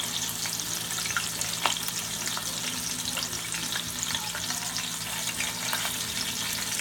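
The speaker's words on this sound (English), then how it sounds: "You searing all the flavor in." Meat sears in a pot for a pot roast with a strong, continuous sizzle and frequent crackling pops, loud and close, with no voices.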